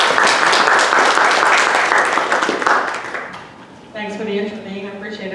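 Audience applause at a fundraising event, a dense burst of clapping close and loud for about three seconds that fades away, followed by a voice speaking.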